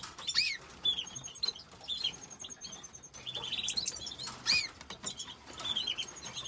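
Canaries in breeding cages, adults with three chicks, chirp and twitter in quick bright bursts close by, with soft rustling and patter from the cages in between.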